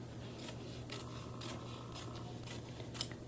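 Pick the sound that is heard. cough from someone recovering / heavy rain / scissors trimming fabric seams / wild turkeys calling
scissors trimming fabric seams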